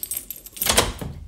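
Keys jangle and scrape in a stubborn door lock, a short burst of metallic clinks and rattles up close, with a louder clatter in the middle of the effort.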